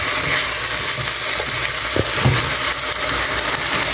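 Small onions frying and being stirred in a pan for chicken stroganoff, with a steady sizzle throughout and a few soft scraping stirs, close and moderately loud with no talk.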